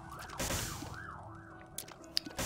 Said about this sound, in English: Thank you, fire truck, for fucking up my recording